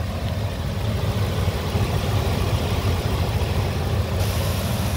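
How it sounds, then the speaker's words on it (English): A 2003 Ford E-350 cargo van with a 5.4 liter engine idles steadily after running for half an hour, a continuous low rumble close to the microphone with no talking. "The engine sounds good."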